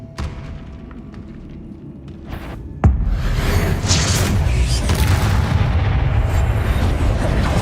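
A Confringo blasting spell goes off in Hogwarts Legacy with a sudden loud booming explosion, followed by a sustained rumbling roar and crackling debris that stays dense to the end.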